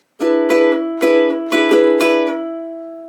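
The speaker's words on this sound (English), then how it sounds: "First one is just change up the strum, make it more offbeat." A ukulele strummed in a quick, syncopated pattern, bright chords ringing out up close, ending with a sustained chord fading away.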